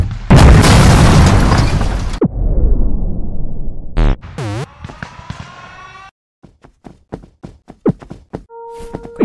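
Gunfire and explosions in the Henry Stickmin video game: a loud booming blast with noisy debris, then sharp bursts, pops and a run of quick clipped impacts, ending with tonal game effects.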